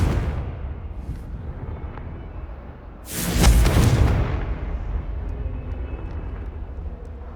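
The Confringo spell explodes in Hogwarts Legacy as a single heavy blast that rises sharply and rumbles for about a second before fading into a low ambient background.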